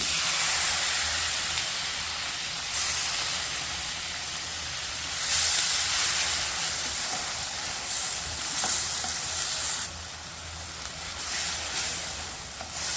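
Capsicum cooking in a hot pan for pav bhaji, a steady, loud sizzle and hiss with occasional stirring scrapes, continuous throughout with small swells in intensity.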